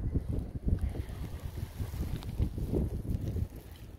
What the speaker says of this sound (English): kayaking on Big Lake